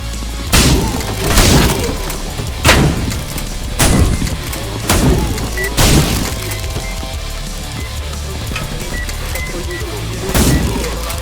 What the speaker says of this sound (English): the most powerful weapon of all, the one you use more than anything else, your shotgun